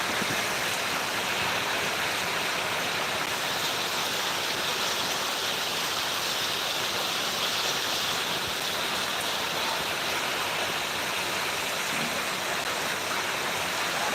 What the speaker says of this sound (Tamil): எவ்வளோ மழை பெய்யுது